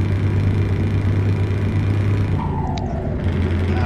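A heavily loaded Scania truck in Euro Truck Simulator 2 climbs a steep uphill grade, its engine holding a loud, steady low drone throughout with no talking.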